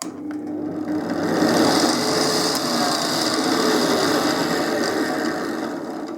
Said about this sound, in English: I use this Wagner safety planer, and as I say, just get these rough contours on it